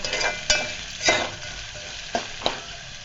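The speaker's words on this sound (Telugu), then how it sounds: "ఆనియన్స్ వేసిన తర్వాత ఒకసారి కలుపుకుంటున్నాను." Sliced onions stirred in a hot pan for mutton keema curry, a steady sizzle of frying with four sharp scrape-and-clatter strokes of the spoon spread across the moment, close and alone with no talk.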